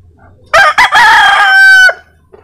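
A chicken crows loudly and close by in one long cock-a-doodle-doo, starting with a couple of short clucks and ending with a faint cluck afterward.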